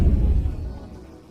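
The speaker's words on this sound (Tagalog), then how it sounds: "Sumabog sa ilalim ng tubig." A muffled underwater explosion in the video game GTA 5, a loud low rumbling boom at the start that fades out over about a second, with no one talking over it.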